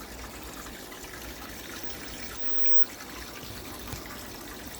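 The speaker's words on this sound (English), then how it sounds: "a little bit more water running through" Water from a garden pond filter system runs and circulates in a steady, continuous wash with no pauses, fairly faint and heard alone.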